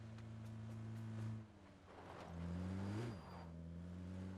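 A video game vehicle engine drones steadily with a pitch shift as it revs and pulls away, loud and close, with no talking.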